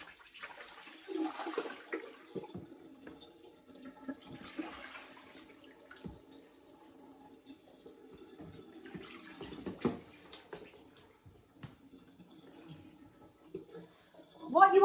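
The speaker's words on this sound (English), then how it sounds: "I'm going to empty the dye bath" Water from an emptied dye bath used for hand-dyeing clothes drains and gurgles in soft, uneven surges with a brief louder splash near the end, while a voice speaks faintly over it.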